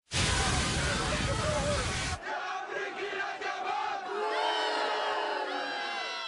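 A loud crowd roars and jeers in a burst of broadband noise, then settles into a murmur of many voices with shouting mixed in.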